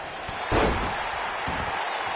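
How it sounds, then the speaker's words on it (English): In WWE 2K19, a wrestler is slammed down to the mat: one heavy thud near the half-second mark over steady arena crowd noise, followed by fainter impacts. "And now slamming Frankie down to the mat."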